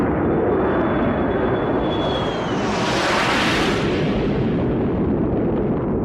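An F-104 Starfighter jet aircraft in a film produces a loud, sustained roar that swells into a rushing whoosh as it passes, with a thin whining tone fading out before the peak.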